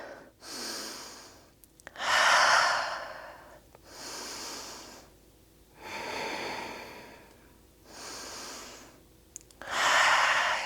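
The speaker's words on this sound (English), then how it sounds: "Taking 3 big rounds of breath here." Deep, slow breaths taken during a gentle yoga flow, several long inhales and exhales alternating in a steady rhythm, close and fairly soft with no talking.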